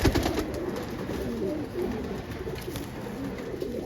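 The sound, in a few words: pigeons cooing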